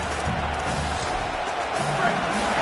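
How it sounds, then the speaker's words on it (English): A stadium crowd in a college football video game roars at a steady, dense level throughout, with a commentator's voice heard over the noise. "This crowd bringing the energy and noise early."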